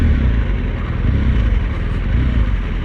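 A BMW GS 1200 motorcycle engine runs with a continuous, loud, close mechanical drone through a gear change, with no voices.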